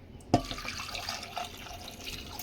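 Water poured into a pot of washed taro roots with a little salt, a steady faint splashing and trickling that starts with a soft knock and continues evenly, close by.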